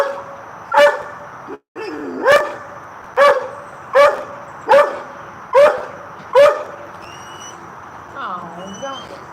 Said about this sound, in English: To tell a dog to shut up that's barking over and over is not cruel.